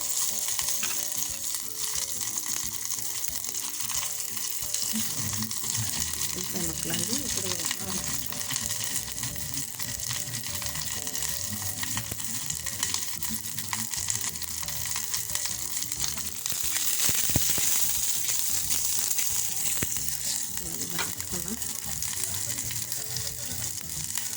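Urad dal, curry leaves and onion pieces frying in hot oil for a Telugu ridge gourd milk curry, a steady close sizzle with occasional stirring scrapes and no talk.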